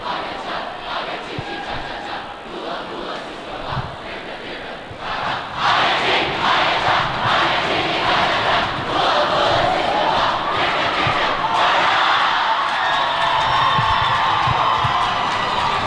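Deerfield fans chanting and cheering at a high school ice hockey game against St. Paul's, a large crowd whose roar swells partway through and stays loud and rhythmic in an echoing rink.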